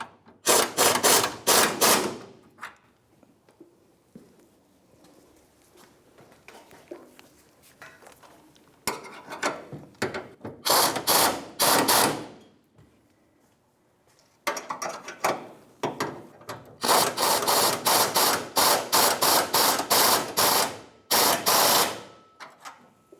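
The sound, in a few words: wrench tightening Ford F-150 fuel tank strap bolts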